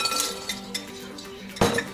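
A cup of raw cashews poured into a bowl, heard as a few light clinks followed by a louder, brief rattling clatter near the end, close and clear against a quiet kitchen background.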